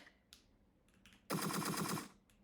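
Rapid automatic gunfire from the video game Entry Point rattles in one loud sustained burst of about seven tight shots, preceded by a few faint scattered clicks and sounds.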